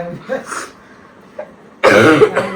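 A harsh, loud cough burst near the mic, followed by a shorter second cough, after quieter murmuring.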